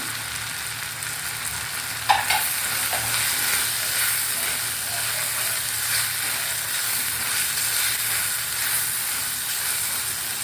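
Steady loud sizzling of chillies frying in a clay pot, with a brief clatter as something drops into the hot pot, then continuous hissing.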